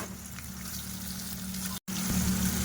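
Onions frying in oil in a pan for a thin mutton curry, a steady close broadband sizzle with a low hum beneath, briefly cut by a short silence before resuming.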